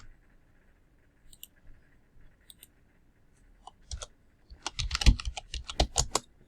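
A few sparse keystrokes, then a quick burst of close, crisp clicking as a password is typed on a computer keyboard in a quiet room.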